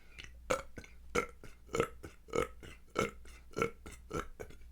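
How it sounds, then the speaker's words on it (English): A person burps repeatedly during a bodily tension release, about eight close, distinct burps at a fairly steady rhythm, with nothing else heard. "And it comes out in burps, esophageal releases."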